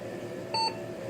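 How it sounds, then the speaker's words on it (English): A single short electronic beep from a BMC computer's internal speaker, steady and fairly clear, lasting a fraction of a second against a faint background hum. "There's your beep."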